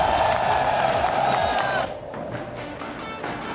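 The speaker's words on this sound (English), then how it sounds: "the crowd is absolutely hyped for a big day" A crowd at an esports event roars and cheers in a dense, sustained wall of sound that drops to a lower level partway through.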